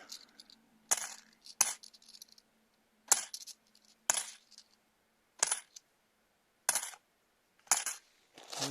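£2 coins poured and tipped out of a coin bag, clinking in a series of bright metallic jingles and short clattering bursts separated by brief pauses, close and fairly quiet, with no talking.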